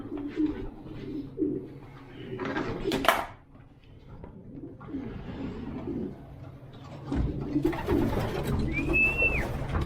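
Racing pigeons coo repeatedly at close range while feeding on pellets, soft throaty calls with occasional clatter and a brief high whistle near the end.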